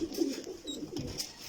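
Pigeons in a coop of breeding pairs and their young coo softly in low, rolling bursts, fairly close, with a few faint higher chirps and no voices.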